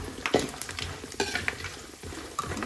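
Peanuts and cashews fry in oil in a pan while a spoon stirs them, soft sizzling beneath scraping strokes and light clinks of utensil against metal, with no talk.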